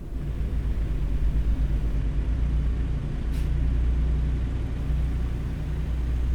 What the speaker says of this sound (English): So I'm just going to drive the truck.